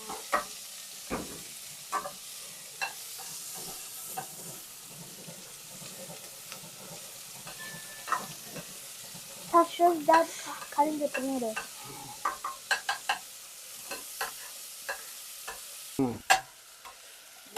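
Chopped onions and green chillies fry in a pan with a soft, continuous sizzle, joined by scattered scraping and clinking taps of a spoon stirring, some sharper bursts in the middle.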